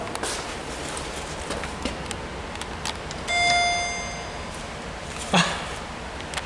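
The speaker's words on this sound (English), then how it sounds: "ring the bell." A hydraulic elevator bell at Chicago Union Station rings a single bright chime with a lingering tone, followed shortly by a sharp clack, over a low background hum.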